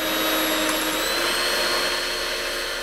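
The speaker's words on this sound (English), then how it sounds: "Listen to the sound of the electric whisk." An electric whisk runs steadily while mixing batter for a cake, giving a loud, continuous high whirring drone close by with no pauses and no talk.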